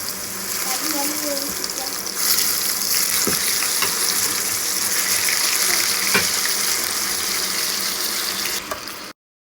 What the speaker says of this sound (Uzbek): Frikadelkalar qovurib olamiz.